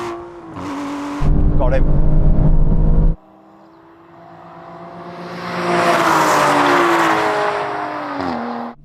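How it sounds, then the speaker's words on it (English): An Aston Martin revs and accelerates in a drag race, its engine note climbing steadily and loudly through the gears, then tailing off. A brief spoken exclamation is heard near the start. "Rev it all the way."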